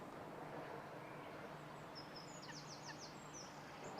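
Ducklings and goslings calling beside a carp fishing lake, a few faint high cheeping peeps in quick runs over a steady outdoor background hiss, distant and quiet.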